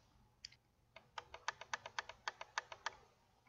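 Computer keyboard typing while a formula is entered in Excel: a quick, fairly regular run of about a dozen crisp keystrokes, close and clear against a quiet background.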